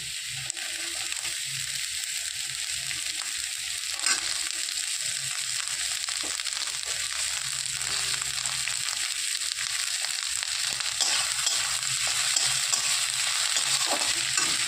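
Seeds hit hot oil in a pan while eggplant bharta is cooked, giving a steady, close crackling sizzle that holds for the whole stretch, with occasional soft scrapes and no voices.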